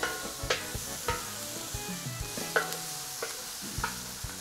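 Bell pepper pieces seared briefly in a hot pan for paella, a soft steady sizzle broken by sharp periodic clacks of a utensil stirring and tossing the pieces, nearby with no speech.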